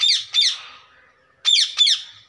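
Macaw parrots in a small aviary let out harsh, loud squawks in two pairs of calls separated by a short pause, close and clear with no talk.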